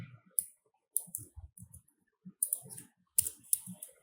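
Bursts of crisp computer keyboard clicks while coding a to-do list app, quick clusters of keystrokes separated by short pauses, close and clear with no talking.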